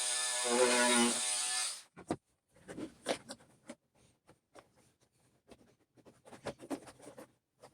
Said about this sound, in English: I'm cutting these little grooves for the wire to fit into